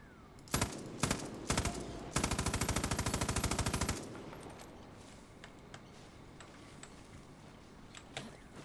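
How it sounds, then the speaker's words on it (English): Automatic machine-gun fire from a Far Cry New Dawn firefight: several short loud bursts, then a sustained rapid stream of shots lasting about two seconds, followed by quieter scattered impacts and ambient noise. "This gun's a fucking machine."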